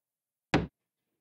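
Single sharp knock on a house door, one brief close thud in otherwise silent surroundings.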